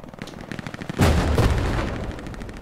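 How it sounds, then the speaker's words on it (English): Machine gun fire in Hell Let Loose, a rapid stream of shots nearby that swells into a loud, heavy burst at the midpoint and then keeps rattling steadily to the end. "There's an MG very close."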